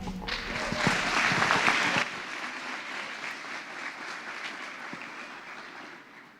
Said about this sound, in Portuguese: Recebam com muitos aplausos Luciana Cedrinho.